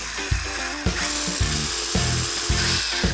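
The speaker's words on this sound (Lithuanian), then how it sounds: "Viskas gręžiam skylės, kontrolinės" A power drill bores 45-degree control holes into wood, whirring in a run of short, repeated bursts that come close and loud, one after another.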